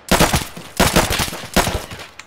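Three rapid bursts of automatic gunfire in the shooter game Escape from Tarkov, loud and close with short gaps between them.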